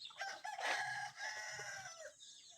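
A free-roaming pet rooster crows once, a clear drawn-out call heard at a distance and moderately quiet, with faint clucking from other chickens around it and no talking.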